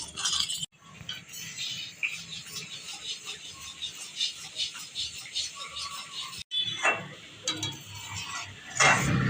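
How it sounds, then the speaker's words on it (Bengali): Sugar is stirred into a raw mango jelly mixture in a pan, giving faint, continuous scraping and light clinks of a spoon, with a voice talking quietly over it. "চিনিটা দেওয়ার পর অনবরত এভাবে নেড়ে যেতে হবে।"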